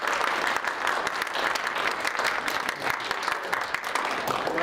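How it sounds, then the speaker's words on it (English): Audience applause follows a presentation, a dense, even wash of many hands clapping at moderate distance, sustained for several seconds without pause. "can we give them a round of applause,"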